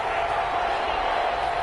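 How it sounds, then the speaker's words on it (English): Steady roar of a stadium crowd urging on the defense during a third-and-four play in an NFL football video game, a continuous wash of noise at even loudness. "this crowd urging on their defense"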